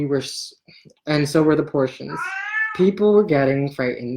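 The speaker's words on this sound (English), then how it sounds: "That's my cat. She likes story time too." A pet cat meows a couple of times, including a rising, drawn-out cry, heard amid a person reading a story aloud close by.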